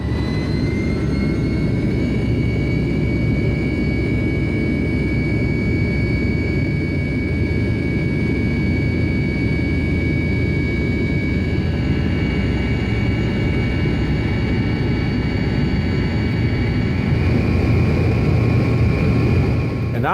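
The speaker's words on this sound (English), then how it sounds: "It was just amazing to hear the engine starting at the back of the Tupolev 154." Jet engine at the rear of an Air Koryo Tupolev 154 airliner spinning up, a loud continuous roar with a steady high whine layered on top, rising slightly near the end.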